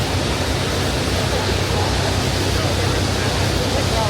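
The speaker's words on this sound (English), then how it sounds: "When the water comes in, you're going to hear a little boom sound" Water surging steadily into an Erie Canal lock chamber beneath a tour boat in Fairport, New York, a continuous broadband rush holding even and loud throughout.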